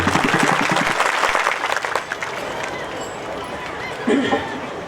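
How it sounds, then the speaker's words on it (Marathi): A crowd at a Ram Navami event claps loudly and densely, then the applause fades to scattered claps and murmuring, with a short burst of voices near the end. "त्यांचा देखील सगळे टाळ्या वाजून हार्दिक स्वागत"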